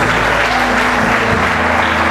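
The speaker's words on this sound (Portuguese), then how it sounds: "Aplaude Jesus." A church congregation claps together during a Quadrangular service in São Jorge, a dense steady wash of applause filling the room with no voices over it.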